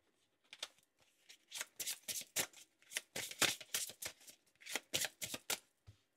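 Tarot cards being shuffled and drawn close up, a quick run of crisp riffling and flicking bursts in uneven clusters, fairly quiet and without talk.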